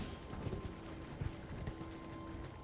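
A horse gallops in the video game Elden Ring, a run of quick, soft hoofbeats with mechanical clatter underneath, fairly quiet and even in rhythm.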